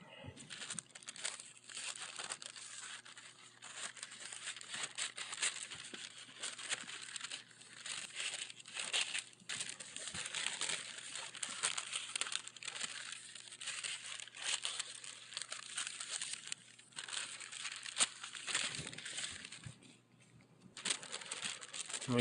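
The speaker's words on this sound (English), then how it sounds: "So this is our stencil right here. I'm gonna go ahead and cut it out real quick." Paper tattoo stencil being cut out with scissors in a clean work area, giving steady close crinkling, rustling and snipping for the whole stretch, fairly faint, with a low steady hum underneath and no talking.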